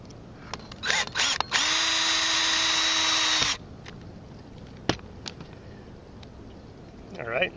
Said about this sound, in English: so I can put a drill on top and just push down and screw them in